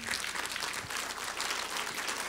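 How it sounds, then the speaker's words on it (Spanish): A church congregation applauds continuously, dense clapping filling the whole moment at a steady, moderate level. "denle un aplauso al Señor."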